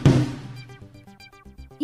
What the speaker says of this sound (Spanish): Estos son los tom-toms de aire.